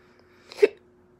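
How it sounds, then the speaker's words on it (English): A single short hiccup from a woman partway through a makeup routine, one abrupt burst standing alone in a quiet room. "Hiccups, jeez."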